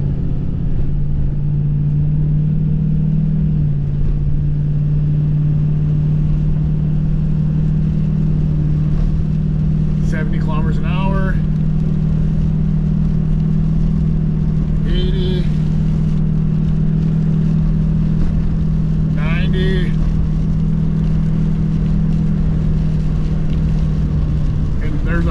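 Ford car engine held at three-quarter throttle on a back road, during a transmission relearn to help fix erratic shifting; a steady, loud engine drone runs throughout, with a few faint brief sounds over it.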